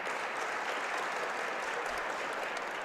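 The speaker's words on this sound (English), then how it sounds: "They're doing the clap." Crowd clapping at a state championship high jump competition, a steady wash of applause from the stands, fairly distant and continuous, without clear speech on top.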